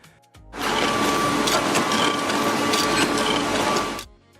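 Pencil-making machine pressing grooved cedar and graphite boards together under several tons of pressure, a steady loud mechanical whir and clatter lasting a few seconds with a sharp start and stop.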